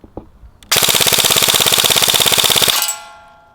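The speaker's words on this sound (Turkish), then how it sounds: "Bununla mermi manyağı yaptık şu anda." An airsoft gun fitted with a red dot sight fires on full automatic in one loud, rapid, continuous burst of about two seconds, then goes silent.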